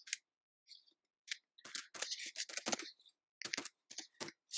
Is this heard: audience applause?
no